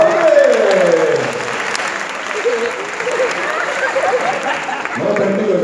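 Loud audience applause after a magic trick at a handkerchief show, continuous clapping throughout with a voice talking over it.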